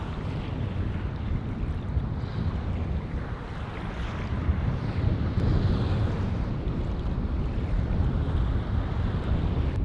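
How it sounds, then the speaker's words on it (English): Steady wind roars and buffets over a Scottish loch on a canoe trip, with a continuous low rumble and gusting microphone noise throughout. "It's quite a bit windier today."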